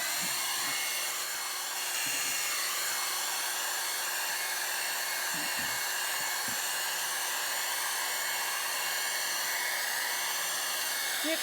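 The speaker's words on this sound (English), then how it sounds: "Whistler didn't have the advantage of hairdryer." A hair dryer blows on a watercolor painting with a continuous, steady whine and rushing air, holding at an even level throughout with a few soft knocks underneath.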